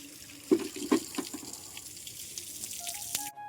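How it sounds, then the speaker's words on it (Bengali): Water runs from a pipe on a rooftop in a steady splashing stream, with a couple of louder gushes near the start and a small clatter before it ends abruptly. "আর পাইপের জলটা ঠান্ডা, কি সুন্দর"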